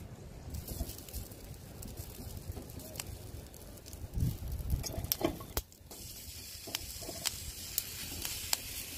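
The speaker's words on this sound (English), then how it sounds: "So we're gonna roast all the tomatillos." Tomatillos and peppers dry-roasting in a pan with no oil or salt, giving a soft, continuous crackling hiss scattered with occasional sharper pops.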